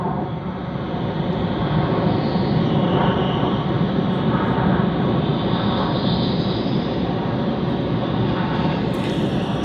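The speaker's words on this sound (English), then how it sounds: "Sydney to Melbourne on the Airbus" Steady, loud broadband roar of an Airbus A330-300 jet engine on a domestic Sydney to Melbourne flight at Sydney Airport, a continuous drone with no break throughout.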